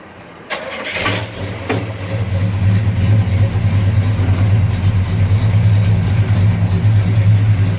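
A 1971 Chevrolet Chevelle 454 SS clone cranks and fires up, its big-block V8 settling into a loud, deep, steady rumble with a strong low hum, close by with no talking.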